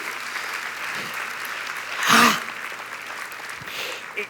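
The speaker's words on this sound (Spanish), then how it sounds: "¿Qué tal si damos un fuerte aplauso al Señor?" Applause from a church congregation swells briefly and peaks in the middle, moderately loud against a quiet room hum, then fades away.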